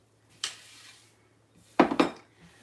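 A pan handled on a stove while cooking firecracker shrimp gives two short bursts of metallic clatter and scraping, the second louder and doubled, with quiet gaps between and no talk.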